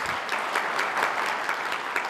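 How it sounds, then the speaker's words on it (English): An opening-ceremony audience claps steadily, a dense wash of many hands at moderate distance, fairly even in loudness with small rhythmic swells, no voices over it. "give a round of applause if you like our new logo"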